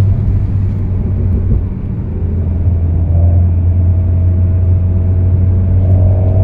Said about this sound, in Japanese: このシフトダウンした時のパーンっていう